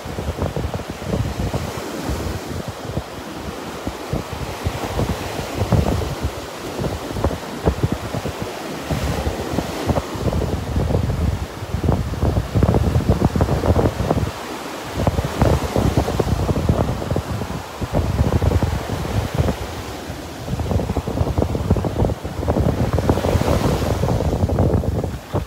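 Ocean surf rolls onto the beach at Delnor-Wiggins on a Tuesday morning, with steady wind buffeting the microphone, waves washing in and receding in broad repeated surges, close and loud with no voices.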